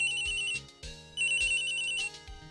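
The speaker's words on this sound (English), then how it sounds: "Oh boy, another phone call." Phone ringing in Phoenix Wright: Ace Attorney, a bright electronic ringtone trilling in two loud repeated bursts with a brief gap between, heard alone without speech.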